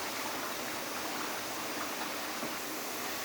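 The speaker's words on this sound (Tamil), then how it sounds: "ஸோ இது நல்லா கொதிச்சுட்டே இருக்குது." Homemade herbal hair oil boils steadily in a pan, giving a constant, fairly faint hiss and bubbling with no talking.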